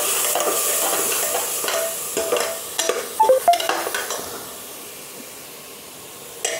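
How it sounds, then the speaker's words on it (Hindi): Onion-tomato masala with two spoonfuls of yogurt is stir-fried in a pan, with a hissing sizzle and a burst of spoon scrapes and clinks against the metal midway, then a quieter steady fry. "इसको मसाले में डालकर अच्छे से भून लेंगे"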